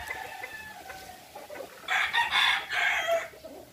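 Gamefowl chickens, including an imported Joe Sanford Grey pullet, cluck and crow nearby, with quieter calls at first and a loud burst of crowing near the end, no talking.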